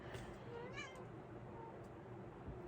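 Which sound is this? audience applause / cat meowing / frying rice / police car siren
cat meowing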